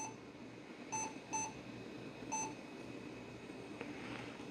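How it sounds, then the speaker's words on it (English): A small Japanese gadget that fails to turn on gives a few faint, high electronic beeps: two close together, then a single one, over a steady background hum. "those are sounding like some unhappy beeps."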